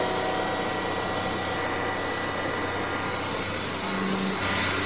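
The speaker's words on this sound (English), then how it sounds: "to listen to all the noises of the car" McLaren F1 supercar engine running, a steady droning hum with broad road and wind noise heard from inside the cabin, continuous and even throughout.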